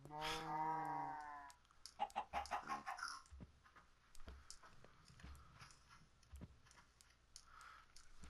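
In Minecraft, a cow's footsteps thud as a series of clunky, irregular steps, fairly close, after a burst of chicken clucking at the start.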